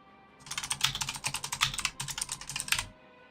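Fast, steady typing on a computer keyboard, a close run of crisp clacking keystrokes lasting a couple of seconds with one brief pause, nothing else audible.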